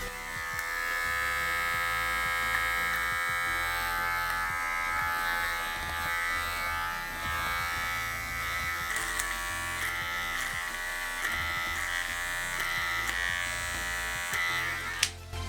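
An Andis Supra 5 Li cordless rotary-motor hair clipper runs steadily on its own with a constant, fairly quiet electric buzz and a faint click near the end.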